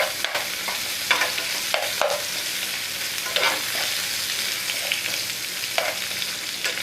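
Onions stirred and frying in a pan over a medium gas flame, a steady close sizzle broken by repeated scrapes and clacks of the spoon, with no voices.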